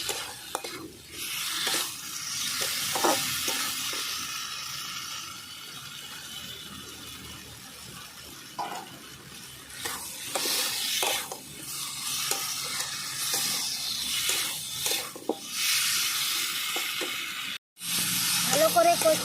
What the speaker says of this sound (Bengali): দিয়ে দেবো ভাজা পটল আর আলু একসঙ্গে দিয়ে ভালো করে কষিয়ে নেব একসঙ্গে